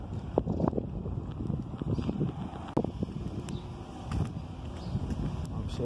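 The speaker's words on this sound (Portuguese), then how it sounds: "Só bugar um pouquinho aí é porque tá ventando muito" Strong wind buffets the microphone during an outdoor walk along a street in Acopiara, Ceará, Brazil, giving steady low rumbling gusts with scattered knocks and rustles throughout.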